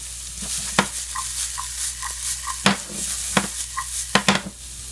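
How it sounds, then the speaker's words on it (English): Chopped onions for an omelette sizzle in a pan, a steady frying hiss broken by a few sharp clicks and scrapes of stirring. "You're going to put onions, of course, put those in first. And cook them till they're translucent."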